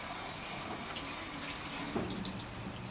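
Tap water runs steadily into a campsite sink while squid is rinsed, a constant close splashing with slightly brighter spatter toward the end.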